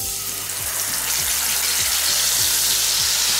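Spice paste hits hot oil in a pan, giving a loud, bright, continuous sizzle with soft rhythmic stirring scrapes underneath while cooking chanar kofta curry.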